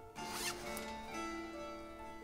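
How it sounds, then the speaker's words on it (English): Jacket zipper pulled open in one long, loud, close rasping stroke indoors, with a brief sharper zip near the start. "Don't mind this loud zipper sound."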